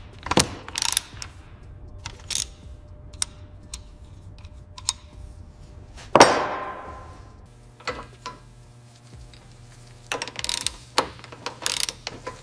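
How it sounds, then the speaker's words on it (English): A crankshaft is turned during assembly of a 1936 Cord 810 engine, giving scattered metallic clicks, ratcheting ticks and a louder clank partway through, close and dry in a quiet workshop. "The mechanic then rotates the crankshaft."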